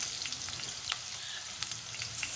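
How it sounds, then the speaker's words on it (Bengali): Potato pieces fry in hot oil after a tempering of spices, giving a steady close sizzle with scattered crackles and pops throughout. "কিছু আলুর টুকরো কেটে রাখা সেগুলো আমি তেলের মধ্যে দিয়ে দেবো।"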